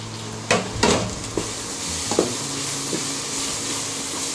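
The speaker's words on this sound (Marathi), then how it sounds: "मी इथं हे सगळे मसाले परतून घेतले, तेल सुटेपर्यंत परतवायचे चांगले." Spices sautéed in oil in a pan, a steady sizzle with a few sharp scraping stirs near the start and scattered softer clinks as the mixture is moved around.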